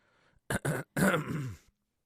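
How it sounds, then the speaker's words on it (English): A person with a sinus infection clears their throat loudly up close, two short rasping bursts followed by a longer, gravelly one. "Clear my throat."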